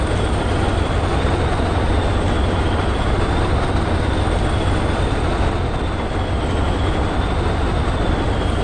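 Heavy Class 20 diesel locomotive in a train simulator game labors up a steep grade, a loud, unbroken engine roar with a steady high whine sustained throughout.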